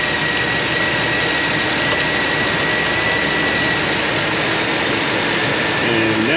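A van engine runs steadily after a restart with all electrical loads switched on, high beams and air conditioning at full, giving a loud continuous drone close by throughout.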